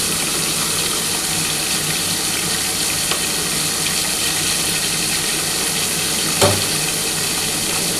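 Pieces of bhola fish frying in oil in a pan, a steady dense sizzle running throughout with a brief louder crackle near the end, close and continuous with no talking.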